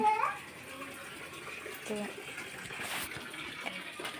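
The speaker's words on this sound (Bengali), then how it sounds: "এইখানে এই যে এটা টাইম কলে জল চলে এসছে" Water runs from a timed public tap into a container at an outdoor cooking spot, a soft continuous splashing gush heard faintly beneath someone talking.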